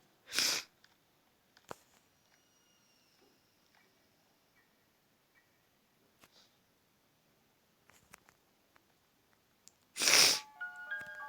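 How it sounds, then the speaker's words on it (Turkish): Two sharp nasal sniffs, one at the start and one near the end, close and clear against an otherwise quiet room with faint clicks. "Burnumu çekiyorum."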